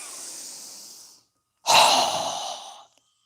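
Two forceful breaths during a yoga breathing exercise: a long airy inhale, a brief silence, then a sharp, strong exhale through the nose or mouth that tapers off, close and alone.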